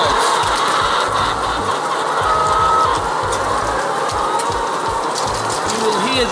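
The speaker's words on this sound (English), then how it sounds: "all you'll hear are birds singing and talking away" Dense chatter of many hens clucking and calling at once inside a colony house, a steady busy din with low rhythmic pulses underneath.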